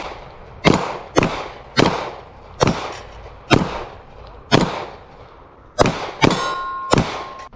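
A SIG P320 X5 Legion 9mm pistol fires nine sharp, loud shots at a steady pace of roughly one every two-thirds of a second, each crack ringing briefly before the next.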